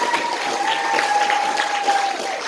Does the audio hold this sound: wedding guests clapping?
yes